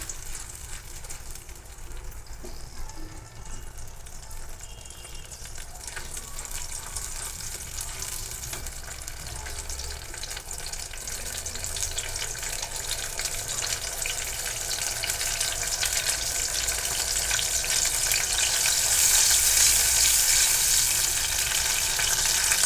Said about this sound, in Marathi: आता हे परतल्यानंतर टोमॅटोची प्युरी टाकून घेणार आहोत आपण ती देखील तेल सुटोपर्यंत व्यवस्थित परतून घ्यायची